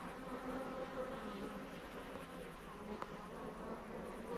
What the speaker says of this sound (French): T'as vu les abeilles de temps en temps, elles viennent à la nourrice, elles la lèchent